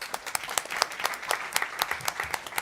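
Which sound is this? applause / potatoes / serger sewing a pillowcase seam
applause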